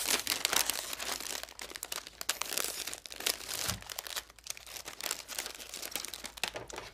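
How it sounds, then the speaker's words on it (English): A cellophane liner crinkles continuously as a block of floral foam is dropped in for a wedding flower arrangement, close and busy with dense rustling and no talking. "I've cut a piece of cellophane to actually be my liner. We'll put that there, and then drop our block of foam in."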